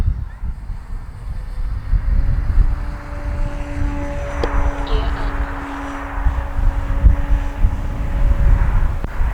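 An E-flite Carbon Z T-28 electric RC plane takes off from grass, its motor whining steadily under heavy wind buffeting on the microphone outdoors.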